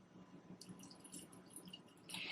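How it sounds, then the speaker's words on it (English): Water trickles and splashes faintly into a jar of fermenting cabbage with celery juice, a soft steady pour close by in a quiet kitchen. "Now, I'm going to put some water in here."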